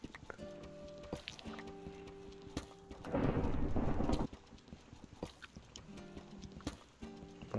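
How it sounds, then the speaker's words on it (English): Thunder from a Minecraft 1.19 thunderstorm rolls in as a loud, broad rumble lasting about a second, set among quieter, intermittent in-game sounds. "that thunder is getting annoying"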